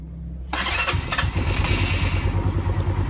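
A vehicle engine cranks briefly and catches, settling into a loud, fast, steady idle close by while its starting circuit is checked with an HT206 multimeter; no talking.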